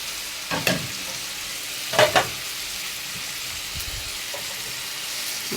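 Hot peppers, including chili and colored bell peppers, being stirred as they fry in a pan for Egyptian shakshuka: a few short scraping stirs over a steady soft sizzle, close and moderately loud, with no talking.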